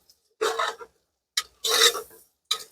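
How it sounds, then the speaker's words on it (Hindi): Spoon stirring whole garlic cloves in a pot for mutton paya, a few short dry scraping strokes separated by silent gaps, close and moderately loud with no talking. "और डाल के इसमें अब इसको हम चला दे रहे हैं बढ़िया तरीका से"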